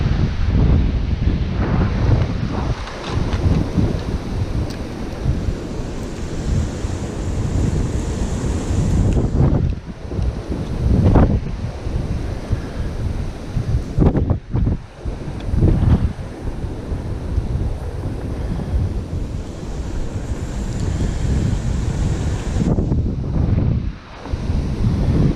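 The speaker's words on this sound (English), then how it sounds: "as you can hear and see, this wind is really picking up" Strong wind during a wildfire roaring and buffeting the microphone in heavy gusts, a loud continuous rumble with brief lulls between blasts.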